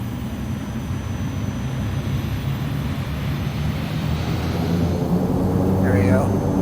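An ATR 72-600 turboprop taking off in Microsoft Flight Simulator, departing Queenstown: a steady, broad engine drone that slowly builds in loudness as power comes up for the takeoff roll.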